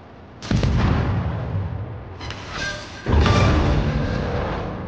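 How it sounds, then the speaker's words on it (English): A naval video game's enemy destroyer blows up in a loud, close booming explosion with a sustained rumbling roar, followed by a second heavy blast about three seconds later, no speech. "Enemy destroyer blown up."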